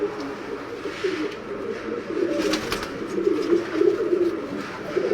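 Pigeons kept for sale in Sialkot coo in low, rolling bursts, close and steady over a soft background rustle, with a few brief higher flutters midway.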